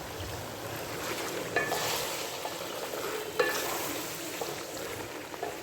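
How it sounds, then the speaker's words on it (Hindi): Chopped tomatoes and green chillies frying in a ginger paste for chicken biryani, a steady soft sizzle with a few brief clinks and stirring sounds, close and continuous without speech. "मैं इसमें टमाटर और मिर्चें डालने लगी हूँ, ये जो काटे हुए हैं।"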